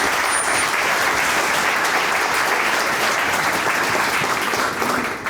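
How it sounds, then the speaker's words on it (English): Audience applause at the opening of the Georgia Tech Atrium at Curiosity Lab in Peachtree Corners, greeting the mayor: steady, dense clapping that fills the room and holds evenly for about five seconds. "That's very kind of you to applaud."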